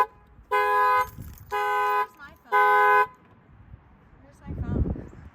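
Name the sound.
car alarm going off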